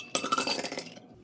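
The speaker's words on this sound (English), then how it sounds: "Now, I'm going to pour it into the glass from which I am going to drink it." A Bloody Mary cocktail poured from a shaker into a glass, a brief rattling clink of ice and liquid lasting about a second, close and fairly loud.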